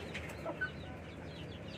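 A chicken with scaly feet and legs gives a few faint, soft clucks close by against a quiet, steady background hum.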